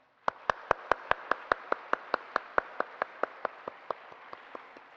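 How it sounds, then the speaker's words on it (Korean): A church congregation at a Korean Sunday service claps in unison in a steady, evenly spaced beat, about twenty crisp claps in a row that ring out clearly and fade slightly toward the end. "우리 수고하는 모든 분들에게 우리 격려의 박수 한번 할까요?"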